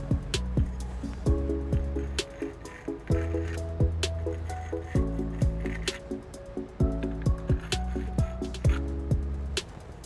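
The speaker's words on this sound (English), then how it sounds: "We're just gonna take the cleaner and clean them out real quick" Spray cleaner hisses and squishes into the trailer hitch bolt holes under a 2007 Toyota Sienna, flushing out debris in short wet bursts over a low, steady humming background.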